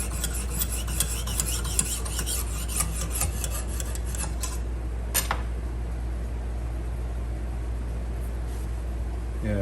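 Repeated rasping strokes of a knife blade drawn against a Lansky guided sharpening hone, a steady scraping rhythm close up that thins out partway through, with faint clinks and no talking.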